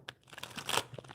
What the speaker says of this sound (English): I just want to shuffle those cards